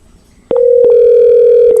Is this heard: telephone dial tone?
yes